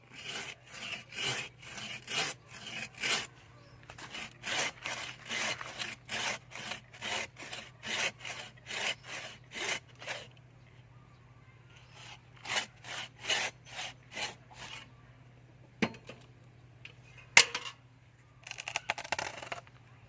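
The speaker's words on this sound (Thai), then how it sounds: "เราจะตัดเฉียงเฉียงนะครับ ตัดเฉียงเฉียงลงนะครับ ก็ทำการเลื่อยเลยครับ" A hand saw cutting diagonally through a papaya trunk with steady back-and-forth rasping strokes, close by, pausing briefly midway before a few final strokes.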